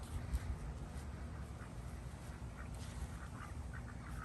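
Ducks quack softly in a backyard duck enclosure in a food forest, scattered calls at a moderate distance over low outdoor background noise.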